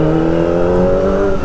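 Motorcycle throttle revved freely on an open road, a steady, loud engine drone with layered harmonics holding for a moment without any voices.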